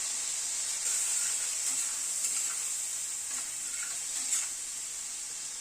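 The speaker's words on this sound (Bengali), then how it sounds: "সব দিয়ে মশলাটাকে একটু কষিয়ে নিচ্ছি" A spice paste of Kashmiri red chilli, turmeric, salt and a splash of hot water sizzles steadily in a pan for a paneer curry, with soft stirring scrapes over the continuous hiss.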